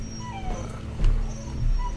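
A small puppy in The Walking Dead video game whimpers and yips in short, high, plaintive cries, fairly close and alone, with a couple of low thumps beneath.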